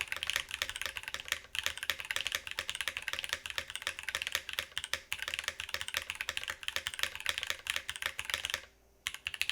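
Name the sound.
mechanical keyboard typing, Emo Go-Go switches, GMK keycaps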